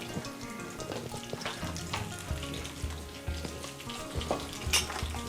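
Red curry paste fries and sizzles in a pan for a Thai curry while it is stirred and broken up. A steady crackling hiss runs throughout with soft scraping stirs, and no one speaks.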